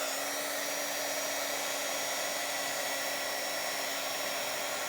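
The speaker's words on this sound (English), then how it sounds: "My heating tool is pretty hot right now, so it heats up really quickly" Embossing heat tool blowing hot air onto a doily, a steady loud whooshing roar with a faint hum, continuous and unbroken throughout with no talking.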